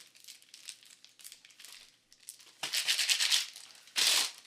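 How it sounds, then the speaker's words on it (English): Adhesive tape is pulled off a roll and torn to secure a cinch and clip cord at a workspace setup: soft crinkling at first, then two louder, rasping bursts of ripping tape. "We take a little bit of tape."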